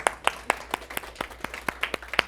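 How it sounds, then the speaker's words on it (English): A small group of people clapping at a steady, brisk rhythm, with individual hand claps distinct and fairly close rather than a dense roar of applause. "So you guys applaud yourselves."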